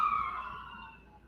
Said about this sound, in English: We got sirens going by.